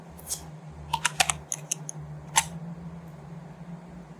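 Light clicks on a computer keyboard while coding in NetBeans, a short cluster of quiet keystrokes including an Alt+Enter combination, with a low steady hum underneath and long pauses between presses; no talking.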